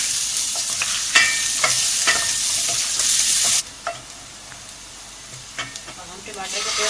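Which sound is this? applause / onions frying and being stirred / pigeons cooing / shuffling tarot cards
onions frying and being stirred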